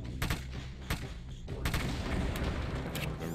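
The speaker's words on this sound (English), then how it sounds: "I'm just going to blow them up when I see them so that they can't hurt me later" Barrels are blown up in a video game: a rapid series of sharp, booming blasts sounds in quick succession, loud and close, with rumbling that carries through the whole clip.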